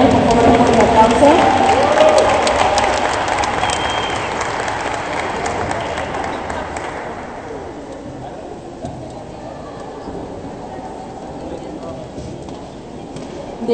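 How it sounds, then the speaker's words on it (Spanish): Audience applause at the close of a panel session: steady, dense clapping that starts strong and gradually thins and fades over several seconds, with a few scattered claps lingering. "Por favor, demos un aplauso."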